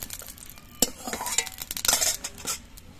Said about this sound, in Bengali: এবার টমেটোটাও ভেজে নিচ্ছি।